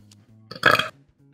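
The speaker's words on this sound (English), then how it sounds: "That was a very impressive burp." A single loud, throaty burp erupts for about a third of a second, close and clear, over a quiet low hum during a card-game session.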